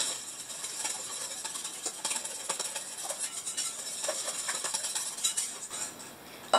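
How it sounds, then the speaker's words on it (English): Coconut flour keto dough being stirred in a bowl with a utensil, giving a soft, continuous patter of faint scraping and clicking with no talking. "We're just gonna mix this all together."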